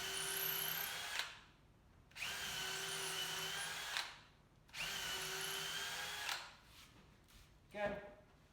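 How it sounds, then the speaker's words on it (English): A power drill with a countersink bit boring into wood while building a sanitiser station, three sustained high whirring bursts separated by pauses, close and fairly quiet, with brief shorter spurts near the end. "Again, I'm going to use my countersink bit."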